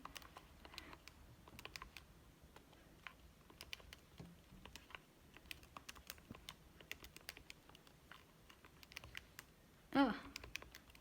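Fingers tap numbers out on a keyboard in a quiet room, a faint, irregular patter of soft key clicks lasting throughout, with one louder knock near the end.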